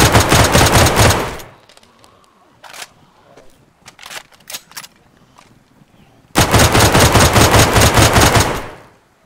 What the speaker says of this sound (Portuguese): só atirar nessa junção que é rapidinho